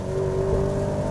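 Exhaust note of a Maserati Grecale Modena heard from inside on a wet road during a gear shift, a steady loud low rumble with a sustained tone and no talk.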